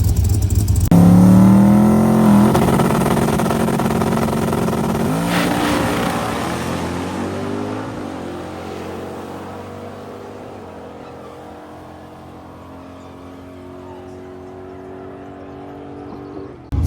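A loud drag race car engine roars and revs hard as it accelerates down the strip, then its drone fades steadily into the distance, leaving a low background hum.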